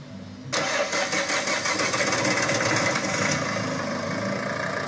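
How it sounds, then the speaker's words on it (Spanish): A car with a failing high-pressure injection pump and its MAF sensor connector unplugged cranks and fires up abruptly, then settles into a steady, close mid-pitched idle with a faint rhythmic pulse, no voices present. "el vehículo arranca con el conector del caudalímetro quitado"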